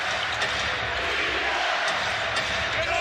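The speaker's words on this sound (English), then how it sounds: "Crowd now getting involved" A basketball arena crowd roars steadily during a 2022 Memphis Grizzlies versus Portland Trail Blazers game, a loud, dense, continuous cheer with occasional sharper shouts and bounces within it.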